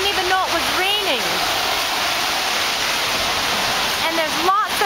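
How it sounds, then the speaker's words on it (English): Heavy rain pours down at night in Toronto, a dense steady hiss filling the scene, with people talking briefly over it. "Nighttime now, and we just got off the subway and it's pouring rain out."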